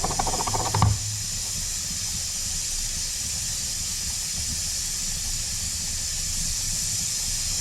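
A pressure cooker on the stove, cooking soup, lets out a steady, loud hiss of steam that carries on evenly, after a brief clunk at the start.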